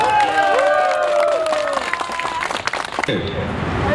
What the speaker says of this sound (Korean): 여러분, 제 말에 동의하신다면 박수 한번 부탁드립니다.